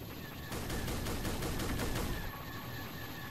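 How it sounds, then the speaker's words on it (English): Cannon fire from a Star Wars Imperial fleet battling modern military helicopters in Garry's Mod, a rapid burst of repeated booming shots for about two seconds over a steady background roar. "He's damaging them, especially with that cannon."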